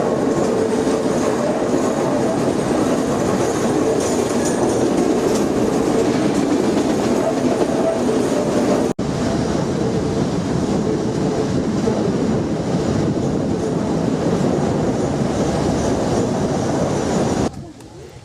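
A train in Madagascar rolls steadily along a winding riverside line at about 25 km/h, a continuous close rumble with rhythmic clatter from the wheels that carries on without a break.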